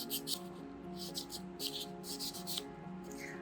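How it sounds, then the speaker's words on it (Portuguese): A buffer file rubs back and forth across an acrylic nail being reshaped from a square tip into an almond form, producing a steady run of close, rhythmic scratchy strokes. "Agora é hora de passar uma lixa buffer nela toda."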